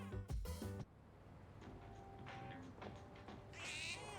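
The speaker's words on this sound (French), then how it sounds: "Le chat." A cat meows faintly, with a couple of tonal calls set among quiet game-style sounds and music, the loudest bursts near the start and end.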